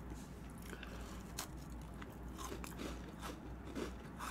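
Crunchy Pepperidge Farm macadamia cookie being bitten and chewed, with soft crisp crunches repeating irregularly close to the mic at low level, no talking.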